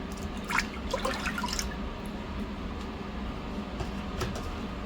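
Broth pours into a soup pot as a soft, steady liquid splash over a low background rumble. Faint drips are scattered through it, the sound is close but quiet, and nobody speaks.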